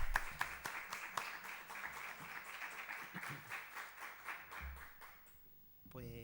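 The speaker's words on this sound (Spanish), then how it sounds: "Un aplauso, la verdad." Audience applause at the opening night of an art exhibition in a club hall, a dense burst of many hands clapping that holds steady for several seconds, then thins out and fades as a voice begins speaking.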